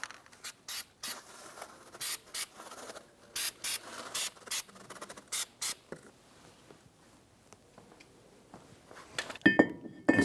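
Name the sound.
spraying anti-seize onto a brake hub surface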